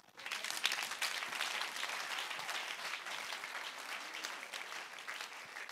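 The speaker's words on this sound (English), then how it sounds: "Give the Lord a clap offering." A church congregation at a fasting sermon claps for a clap offering, many hands clapping together in a steady, even wash that holds throughout.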